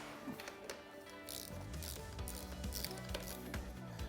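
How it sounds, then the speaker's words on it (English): Mechanical ratcheting and clicking from a ratchet tightening fork clamp bolts on a dirt bike, a steady run of close, busy clicks and metallic ticks over a workshop background, with no talk. "then we will torque these bolts to 20 Newton meters"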